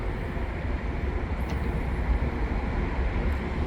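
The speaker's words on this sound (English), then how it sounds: "Siemens train coming through. It's coming westbound." A Via Rail Siemens passenger train passing westbound, heard as a continuous loud low rumble and roar with steady rolling noise throughout and no voices.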